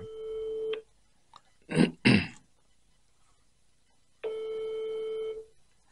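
Ringing tones from a telephone on speakerphone held near a microphone, with two long steady electronic beeps separated by a pause, a quiet voice and a throat clearing in between.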